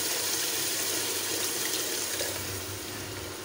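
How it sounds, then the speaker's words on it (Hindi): Water pours from a jug into a cooking pot of black chickpea masala, a continuous splashing rush that stays loud and steady and tapers slightly at the end, with no talking. "अब इसमें हम पानी डाल देंगे 1 जग"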